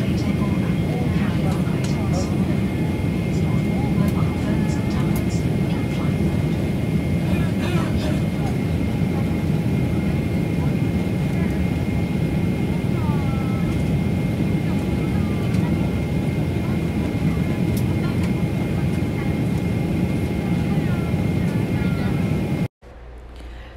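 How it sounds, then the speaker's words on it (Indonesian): Steady, loud jet airliner cabin drone during flight, a dense constant roar filling the whole clip, with faint speech underneath and an abrupt cut near the end. "Inilah di dalam pesawat, saya melihat dari jendela suasana di bawah."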